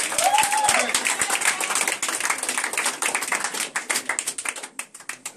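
A congregation claps and cheers in praise at a church service, with rapid steady hand claps throughout, a brief voice rising over the clapping near the start, and the applause thinning toward the end.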